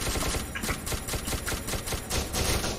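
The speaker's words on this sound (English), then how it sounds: "Yes, you're shooting me." Rapid gunfire in SCP: Secret Laboratory, a steady rattling stream of close shots repeating quickly and evenly with no break.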